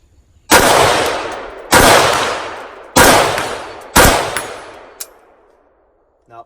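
Four loud, close gunshots from a JE Machine Tech-equipped gun being test-fired for cycling problems, spaced about a second apart, each with a long ringing decay, followed by a faint click.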